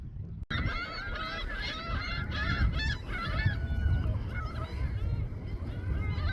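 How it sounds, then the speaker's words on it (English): Gull-like birds call repeatedly in a noisy chorus over low rumbling background noise, the shrill cries overlapping and persisting throughout. "just had to stop and have a seagull break."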